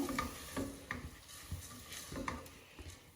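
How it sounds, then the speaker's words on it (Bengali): Rice being stirred in a pot while cooking Sylheti khichuri, a series of soft scraping strokes at an uneven rhythm over a faint sizzle, close and fairly quiet with no talking. "এখন আমি 2-3 মিনিট একটু নাড়াচাড়া করবো।"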